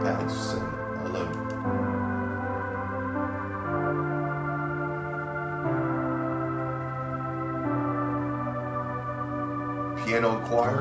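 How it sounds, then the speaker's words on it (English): Layered synth pads playing alone with the piano removed, sustained chords shifting every couple of seconds in a smooth, steady, moderately loud wash. "I'm going to take out the piano so you guys can hear all the pads alone."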